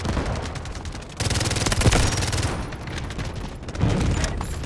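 Gunfire rattles through an artillery barrage in the Delta Force Mobile game, with loud machine-gun bursts and dull explosions arriving in close, overlapping waves.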